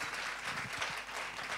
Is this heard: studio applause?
yes